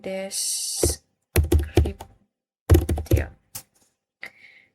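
A computer keyboard is typed on in short bursts of clattering keystrokes at close range, separated by pauses, with a faint voice in the background.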